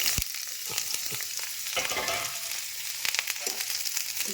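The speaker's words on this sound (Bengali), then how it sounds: "এই যে কড়াইতে তেল দিয়ে দিয়েছি, এই বেগুনটা দিয়ে দেবো।" Eggplant hitting hot oil in a wok gives a loud, crackling sizzle with scattered pops and stirring scrapes, continuous and close, no talking.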